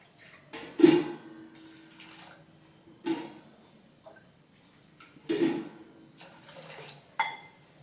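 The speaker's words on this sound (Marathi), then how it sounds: "पाणी घालून ह्याला आता बॉईल करून घ्यायचंय" Water poured into a cooking pot to boil corn cobs for a spicy corn recipe, heard as four short splashing bursts separated by quieter gaps, close by and moderately loud, with no talking.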